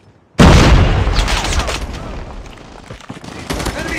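Grenade blast and rapid gunfire in the mobile shooter Call of Duty Mobile: a sudden loud burst that stays dense and busy, with crackling shots and rumbling continuing throughout.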